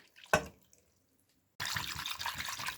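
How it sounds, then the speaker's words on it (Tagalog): Two cups of milk poured into a flour mixture for a moussaka sauce: one sharp knock, then near silence, then a steady, close pouring rush that continues to the end. "Lalagyan natin siya ng 2 cups ng milk."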